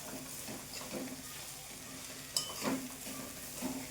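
Kachori filling mixture stirred in a pan, soft scraping strokes repeating under a faint background hiss, close and fairly quiet.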